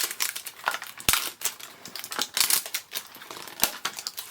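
Disney Doorables Moment Peaks mini-figure packages being torn open by hand without scissors, giving a steady run of close crinkling and crackling plastic with sharp snaps and tearing bursts.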